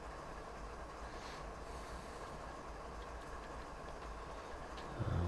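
A long freight train in a Train Sim scenario on Marias Pass rumbles steadily with a low continuous roar, faint clickety-clack of wheels and a slight swell near the end, with no talking.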